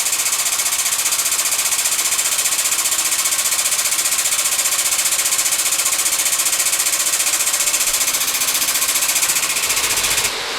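An air-powered hydraulic floor jack, a 22-ton Harbor Freight unit, runs with a steady, loud, rapid pneumatic chatter for about ten seconds, then cuts off abruptly near the end.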